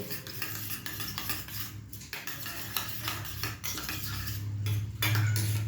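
An egg omelette being cooked in a pan in a home kitchen: a metal utensil scrapes and clinks against cookware with a low sizzle underneath, close and continuous, and nobody speaks.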